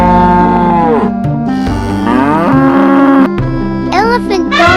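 A cartoon cow moos loudly and repeatedly, long low drawn-out calls filling the whole stretch, close and dominant over a musical backdrop, with no talk.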